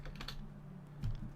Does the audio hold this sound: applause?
no